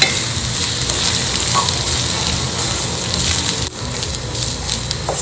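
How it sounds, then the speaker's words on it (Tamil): Wheat semolina roasting in oil with sautéed vegetables in a pan, a loud continuous close sizzle with light scraping of a spoon stirring throughout. "கோதுமை ரவை போட்டு நல்லா வறுபட்டுருது பாருங்கள்"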